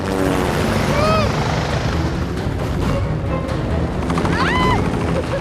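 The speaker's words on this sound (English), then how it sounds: "in the distance, come two bloody helicopters and two trucks just driving and flying towards us" Helicopter rotors thump loudly and continuously, with engine whine rising as the aircraft draw nearer.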